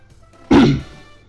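A single harsh cough or throat-clearing burst, close and loud, lasting about a quarter second before fading into quiet.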